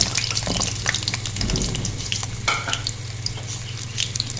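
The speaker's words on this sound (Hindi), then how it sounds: "फ्राई हमने इनको इतना करना है कि ये थोड़ी सी सॉफ्ट हो जाए" Green chillies fry in about a quarter cup of oil in a pan, giving a steady soft sizzle with occasional stirring clinks and scrapes, continuous and close, with a low hum underneath.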